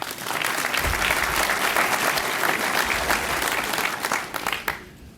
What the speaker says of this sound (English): allow us to thank you, as well as those who were not able to be here tonight, who have supported me, with a round of applause